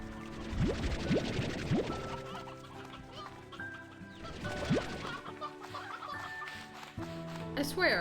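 Chickens in the farming game Slime Rancher 2 cluck and squawk in a busy, overlapping flock, steady and close for several seconds, with occasional game tones and rising squeals mixed in.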